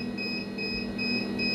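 A 10 kW 48 V LF10.48 inverter alarm sounds for a battery overvoltage error, a steady series of short high-pitched beeps repeating at an even pace over a constant electrical hum.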